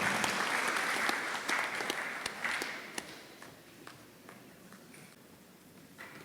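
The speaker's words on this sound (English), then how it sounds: "can we have a round of applause to welcome our guest of honor" An audience at a Fiji Teachers Union book launch applauds to welcome the guest of honour, moderately loud clapping that thins out into scattered individual claps and fades toward the end.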